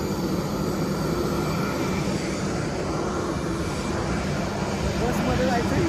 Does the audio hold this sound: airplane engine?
yes